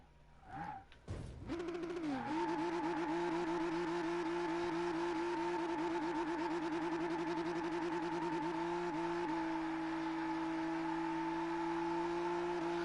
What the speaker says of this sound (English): when you do a braking burnout like this